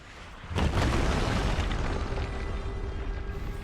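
A heavy, sustained blast from a grenade exploding in the video game Reanimal, erupting suddenly and rumbling on loudly with a broad roar for several seconds.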